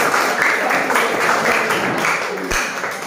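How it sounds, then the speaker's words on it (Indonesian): An audience of students clapping together in a classroom, a dense, loud burst of many hands applauding with a slightly rhythmic pulse that holds steady, then eases off toward the end. "Tepuk tangan juga kalian semua"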